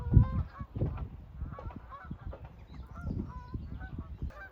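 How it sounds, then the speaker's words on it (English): Geese honking as they fly over a farm after grazing on barley stubble, a scattered chorus of repeated honks at moderate distance, rising and falling without talk. "Geese are flying over."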